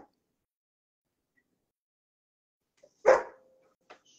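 A dog gives one loud, close bark after near silence, followed by a few faint small noises.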